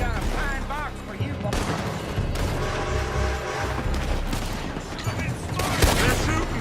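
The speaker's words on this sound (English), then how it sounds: "They're shooting from that building." Gunfire pours from a building in sustained bursts of loud, overlapping shots and booms, dense and close, with voices mixed into the chaos.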